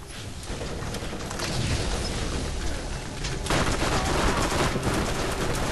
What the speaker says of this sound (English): It is a cool gun. Burning SMG, sweet.